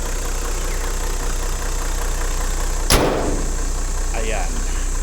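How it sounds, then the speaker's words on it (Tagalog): A car engine idles steadily with a constant low rumble, then a brief sharp click-like burst cuts through partway before the hum carries on. "At atin na ring papatayin ang makina"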